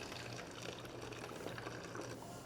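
Film developer poured through a red funnel into a developing tank for colour film, a steady close liquid trickle and splash running continuously throughout with no talking.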